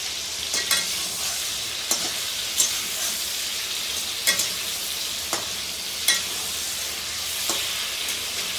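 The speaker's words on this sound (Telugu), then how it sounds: "బాగా వేయించుకున్న తర్వాత తీసేద్దాం ఇవి వేగుతున్నాయండి" Thick pieces of dried sea fish frying in a pan with turmeric: a constant close sizzle with sharp, regular scraping clicks of a spatula every second or so.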